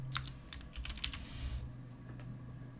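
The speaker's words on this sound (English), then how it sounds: "I type in 100" Quick keystrokes tap on a computer keyboard in a short burst of clicks, then a couple of softer isolated taps, close and fairly quiet over a low background hum.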